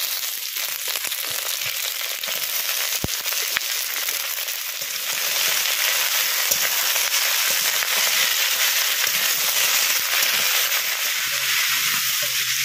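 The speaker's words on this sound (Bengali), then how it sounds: "পুঁইশাকটা কিছুক্ষণ নাড়াচাড়া করে নিয়েছি" Malabar spinach frying with onion and garlic in a pan, a loud, steady sizzle with occasional stirring scrapes and clinks, up close.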